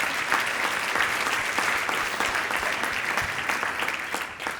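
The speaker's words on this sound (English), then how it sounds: "can we get a round of applause for these guys?" An audience at a Q&A panel gives a sustained round of applause, a dense wash of many clapping hands that holds steady and slowly tapers toward the end, with no one speaking over it.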